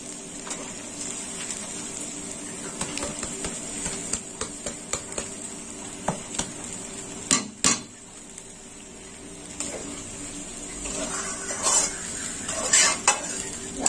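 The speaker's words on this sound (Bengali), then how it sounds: "সিদ্ধ চালটা আমি ভালো করে নেড়ে চেড়ে নেব।" Parboiled rice being stirred and fried in ghee, a bright steady sizzle with a run of rhythmic spatula scrapes and clinks against the pan, close and moderately loud, no voices.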